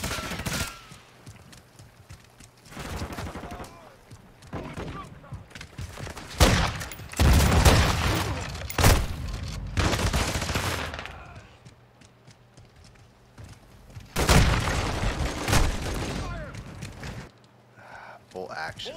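SPR rifle shots crack out in Call of Duty on the Shipment map, coming as loud, sharp single reports and short clusters spread across the stretch, with a player talking between and over them.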